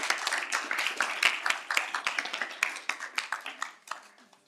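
Seminar audience giving a round of applause, individual claps clearly audible from a modest group, close and brisk at first before thinning and fading toward the end.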